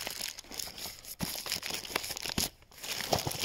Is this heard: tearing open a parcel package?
yes